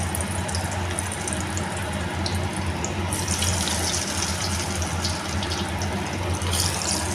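Mullangi (radish) kola urundai balls are slipped into hot oil, about six at a time in a shallow layer of oil. A steady hiss of sizzling grows louder and brighter partway through and then holds, with no talking.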